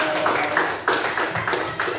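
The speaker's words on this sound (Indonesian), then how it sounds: "Tepuk tangan." A fifth-grade primary school class claps together in rhythmic bursts, several sharp waves of hand claps over about two seconds, with voices mixed in.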